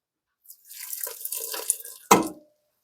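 Ginger cooking water poured back into a pot, a short trickle and drip of liquid building for under two seconds, then a sharper close splash or clunk at the end.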